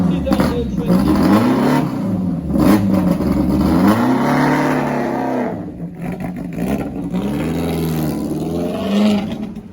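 A 2022 Bugatti 110 engine revs in rising and falling sweeps as it drives past at a concours of elegance at Hampton Court Palace, loud and close, with talk over it.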